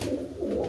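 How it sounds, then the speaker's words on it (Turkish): Tumbler pigeons cooing close by in a loft: a steady, low, throaty rolling coo that pulses continuously, with no voices. "Mesafeli ve taklalı kuşlar."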